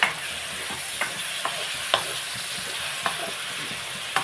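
A spoon scrapes and stirs brinjal and mango curry in a pan, with soft taps every half second or so over a steady low sizzle of frying.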